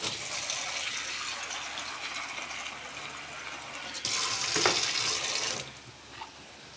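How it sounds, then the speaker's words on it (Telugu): Water pours into a pot of brinjal and gooseberry curry seasoned with salt, chilli and turmeric, a steady near splashing rush that swells louder for a moment before easing off. "ఇప్పుడు వాటర్ పోద్దాం."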